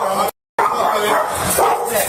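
A dog barks and yips inside a home amid a tense confrontation, a few sharp, close barks mixed with loud overlapping voices, broken by a brief cut to silence.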